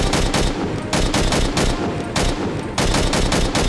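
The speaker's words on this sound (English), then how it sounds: "the chain guns that are forward facing" Forward-facing chain guns on a capital ship escort in the video game Angels Fall First fire in loud rapid bursts, each a dense rattling stream with brief pauses between volleys.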